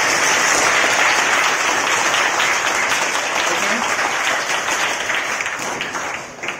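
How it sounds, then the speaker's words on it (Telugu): A crowd at a school gathering for National Sports Day applauds loudly and steadily, a dense wash of many hands clapping that holds strong, then tapers slightly near the end. "మీరందరూ కూడా క్లాప్స్ కొట్టారు చాలా గట్టిగా"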